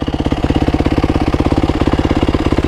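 A Yamaha WR450F idles through its exhaust fitted with a new baffle, a loud, close, deep thumping beat firing in a fast, even rhythm throughout.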